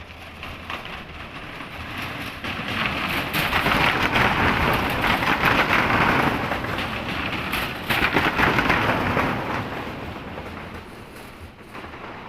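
Motorbikes crossing an old Japanese-occupation-era suspension bridge in Indonesia under overcast skies: a loud, rattling rumble builds, holds through the middle and eases off, with a second surge partway through and no talking.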